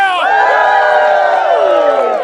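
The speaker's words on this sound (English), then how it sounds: "You cheer." A theatre audience at a school play of Romeo and Juliet cheers for the wedding with a loud burst of whoops and voices sweeping together, close and brief.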